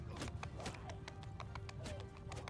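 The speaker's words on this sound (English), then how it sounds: "And my horse is trotting along." Horse hooves trotting in the video game Mount & Blade II: Bannerlord, a steady clip-clop rhythm of sharp taps over continuous battle noise, with a brief whinny-like tone and a voice talking over it.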